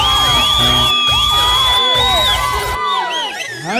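A worship conference congregation cheers, whoops and shouts loudly and continuously, many voices overlapping near and far in a sustained roar.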